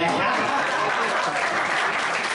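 An audience applauds at a small live music venue in Taipei during a band night. The clapping is dense, steady and close, holding at an even loudness for the whole stretch.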